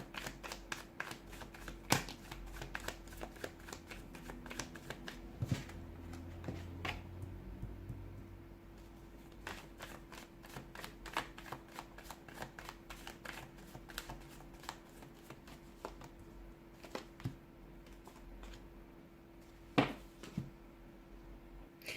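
Tarot cards shuffled quietly by hand, soft flicking riffles and scattered sharp taps and snaps spread across a long stretch, close but faint in a quiet room.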